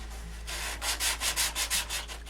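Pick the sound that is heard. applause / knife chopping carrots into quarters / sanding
sanding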